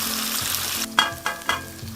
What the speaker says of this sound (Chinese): 然后耐心的给它两面煎到金黄